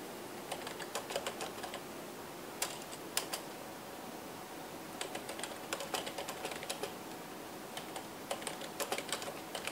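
A command is typed on a computer keyboard: quiet, close clusters of key clicks in short bursts with brief pauses between them, no voices.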